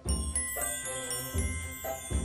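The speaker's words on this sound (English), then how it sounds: "That's the sound of the magic story drawer." A toy magic story drawer on a children's show gives a tinkling chime, several bright bell-like strikes ringing over a low tone, close and clear with no voices.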